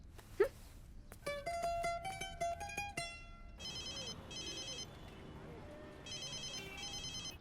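A telephone ringtone chimes in repeated electronic bursts, preceded by a bright melodic jingle and a brief sharp sound, over faint background noise.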